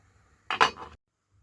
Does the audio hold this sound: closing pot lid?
yes